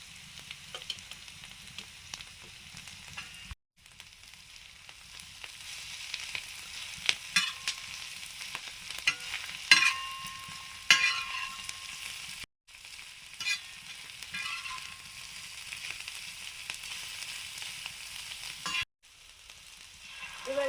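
Capsicum and green chillies fry steadily in a pan, a dense close crackling sizzle with scraping stirs, broken by a couple of brief cuts.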